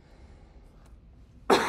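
After quiet room tone during a masked university lecture, one sharp, loud cough bursts out close to the microphone near the end.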